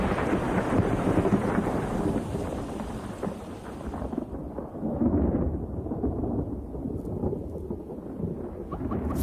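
Thunderstorm over the Okavango delta in the change of season: loud, continuous rolling thunder rumbles throughout, with a heavy low roar that swells again midway, mixed with rain and wind noise.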